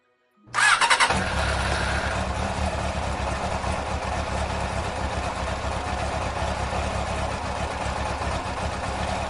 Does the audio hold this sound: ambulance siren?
no